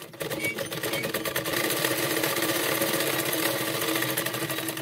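A sewing machine stitching the back neck of a blouse, its needle chattering in a fast, even rhythm that runs steadily and loudly from start to finish.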